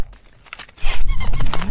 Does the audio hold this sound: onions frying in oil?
no